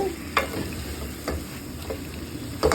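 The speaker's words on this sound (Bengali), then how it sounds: "লাল হলে এগুলো ঢেলে শাকটা আমি ঢেলে দিচ্ছি। এখন কিছুক্ষণ নাড়াচাড়া করে" Taro greens (kochu shak) fry in a pan with onion, giving a steady close sizzle with occasional scraping stirs of a spoon against the pan, no voices present.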